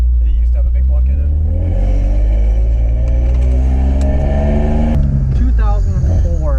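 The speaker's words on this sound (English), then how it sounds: "This thing chops harder than most fucking big block V8s." A cammed 2004 BMW 330Ci with big 264/248 cams and headers idles loud and close with a heavy, choppy, uneven lope that rumbles steadily throughout, and a voice talks over it near the end.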